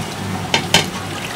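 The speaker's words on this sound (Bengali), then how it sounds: "মাংসটা কিন্তু প্রায় কষানো হয়ে গেছে, মাংস থেকে তেল ছেড়ে দিচ্ছে" Beef frying in its own released oil while being stirred for kosha in a Khulna-style Eid curry with chui jhal, giving a low sizzle with two short scraping stirs.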